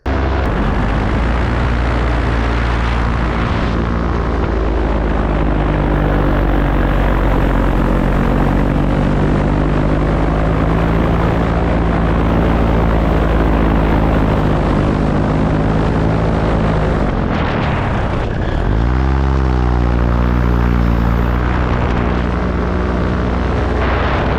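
Paramotor engine and propeller droning loud and steady in flight over Brazil, a continuous close buzz with pitch shifts near the end as the throttle changes.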